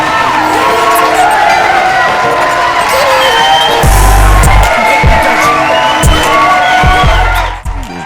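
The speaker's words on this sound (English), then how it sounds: "Thank you for the round of applause" Loud crowd cheering and applause, a dense wall of shouts, whoops and clapping that stays strong throughout before dropping off at the very end.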